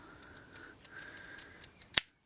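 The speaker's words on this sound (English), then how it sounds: "take your scissors at like a 90-degree" Fabric scissors snip through ribbon in a string of small, quiet clicks and slides, ending in one sharp, louder cut before falling silent.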